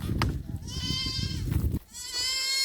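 A goat buck on a Boer goat farm gives two loud, wavering bleats, one after another, close by, with low rustling noise underneath.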